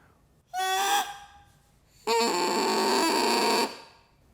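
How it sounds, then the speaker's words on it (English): A bassoon reed crows alone at a higher pitch than a contrabassoon reed, first a short squawk and then a longer buzzy sustained tone with a raspy edge. "the bassoon crow is much higher, as you would expect"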